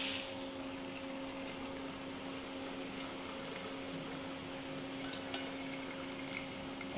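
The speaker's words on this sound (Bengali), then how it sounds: "এবার এটা আমি এখানে ঢেলে দেবো" Boiled tea water pours steadily into a pressure cooker for chole, a continuous close, even rushing hiss with a faint background hum and no talking.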